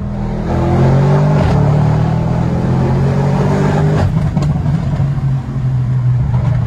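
An Audi RS6 C8 at Stage 2 tune with a Milltek exhaust pulls strongly in a loud, steady engine drone with slight shifts in tone, heard from inside the car.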